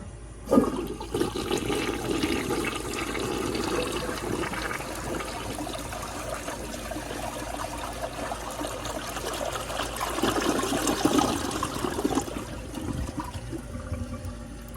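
A restored 1958 Standard cadet toilet flushes with a sudden rush, then water swirls and trickles steadily through the bowl for about twelve seconds before stopping, close and clear with no talking.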